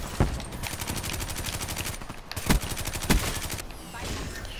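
Sustained LMG fire in a Call of Duty match, with long rattling bursts of closely spaced shots broken by brief pauses and a few heavier blasts.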